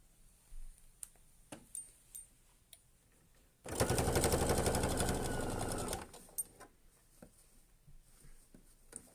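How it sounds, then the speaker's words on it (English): A sewing machine stitches down a double zip pouch at a quarter-inch seam, one close, steady rattling run of about two seconds set between light handling clicks and taps. "I'm going to sew this down so that you can see it"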